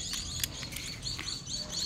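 A flock of birds chirps near a sliding gate outdoors, a busy mix of short, high tweets and calls over a steady background hiss.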